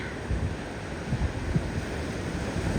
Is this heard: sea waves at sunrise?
yes